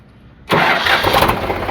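An Eicher 368 tractor's engine cranks and catches, then runs at a steady, loud idle close by, with no talk over it.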